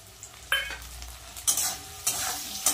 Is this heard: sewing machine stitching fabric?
no